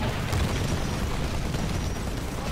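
A missile exploding in the shooter Titanfall, heard as a continuous loud, dense roar of blast and rumble with no distinct separate hits.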